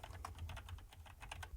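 Rapid, steady keystrokes on a computer keyboard, clicking close and alone with no voices, as a name is entered into vehicle service configuration software.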